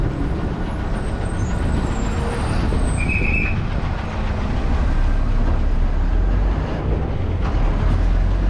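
A Chennai MTC city bus on route 202 from Tambaram to Avadi pulls in and stops at a roadside stop, with a steady loud engine rumble, brief air-brake hiss and rattling from inside the cabin, without voices.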